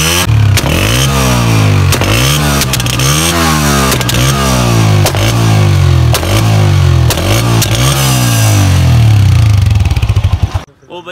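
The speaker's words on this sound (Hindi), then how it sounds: "चलो इसकी फायर किट देखते हैं।" A Honda 125 motorcycle fitted with a fire kit exhaust revs hard over and over, its loud engine note climbing and dropping in quick repeated blips with crackling pops, then cutting off abruptly at the end.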